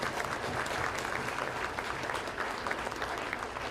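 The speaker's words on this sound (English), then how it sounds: "let's give Mayor Moore and Chairman Taney one more round of applause" Audience applause for the mayor and a chairman at a city State of the City address fills the room as dense, even clapping from a large crowd, loud and sustained throughout.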